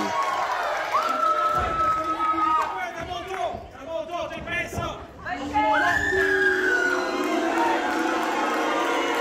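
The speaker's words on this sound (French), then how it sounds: "Johnny the Star, lui, reçoit les acclamations de la foule." Crowd noise at a JCW wrestling show greeting Johnny the Star, a steady roar of cheers and shouts from the audience that rises again near the end, with a commentator talking over it.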